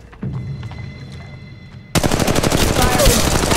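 Automatic weapon fire in the Apex Legends Mobile video game: a sudden loud burst of rapid shots starting partway through and continuing as dense, close gunfire after a quieter stretch.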